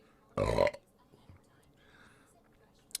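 A single loud, close burp lasting about half a second, standing alone against a quiet background with faint murmurs afterward.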